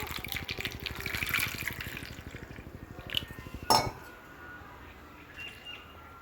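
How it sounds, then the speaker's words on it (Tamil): Water pours in a steady trickling stream for a few seconds onto soaking tamarind, then stops with a splash, leaving quiet drips and faint background sounds. "தேவையான அளவுக்கு தண்ணியை ஊற்றி"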